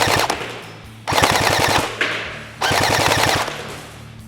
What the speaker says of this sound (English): It's going to keep firing about 3 bursts in full automatic,